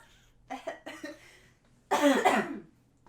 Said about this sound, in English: That was just a weak cough.